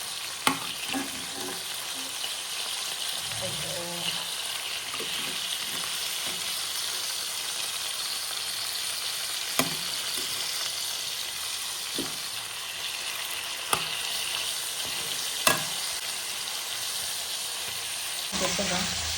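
Anjal fish frying in a pan over a low gas flame, giving a steady, dense sizzle with occasional soft clicks and stirring knocks throughout.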